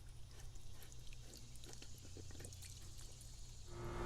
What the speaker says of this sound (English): loosen this piece so that your filter can drain